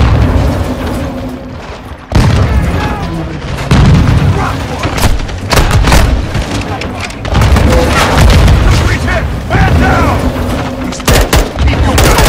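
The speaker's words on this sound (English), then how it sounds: "They're launching grenades!" Repeated grenade blasts thud loud and near amid rattling gunfire in Call of Duty: Modern Warfare 2 (2022), several booms spread across the stretch, with voices shouting through the battle.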